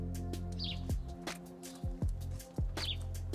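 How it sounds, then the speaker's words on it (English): Faint bird chirps and quick tweets scattered over a steady low hum at a seaside cottage in East Sussex, England, with a few sharp clicks or taps in between. "Can you hear the birds tweeting?"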